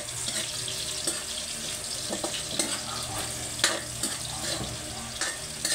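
Onions sizzling in a pan after ginger for duck adobo in coconut milk, a steady hiss and crackle with scattered stirring clicks throughout.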